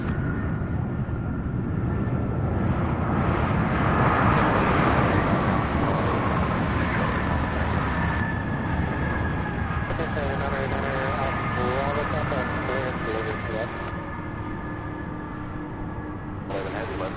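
A jet airplane lands at UPS Worldport, Louisville airport, its engine roar swelling and then easing with a falling whine. Voices and radio-style chatter run faintly underneath.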